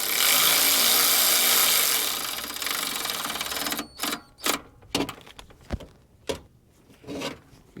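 A bolt is tightened on a 2006-2010 Toyota Camry radiator support, starting with a few seconds of loud, steady power-tool whirring, then a series of separate sharp metallic clicks and clanks.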